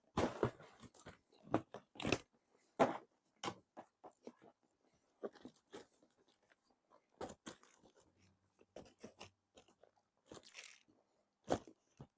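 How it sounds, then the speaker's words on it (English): Someone biting and chewing a toasted sandwich, with repeated crisp crunches and softer chewing sounds in an irregular rhythm, close up, separated by short quiet gaps. "Biting noises, chewing noises."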